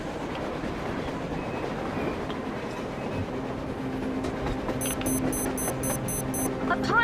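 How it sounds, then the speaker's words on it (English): A train rolls along on the surface in the post-apocalyptic shooter Metro Exodus, a steady low rumble and rattle with a string of high beeping tones partway through, no talk. "A train! A damn train on the surface!"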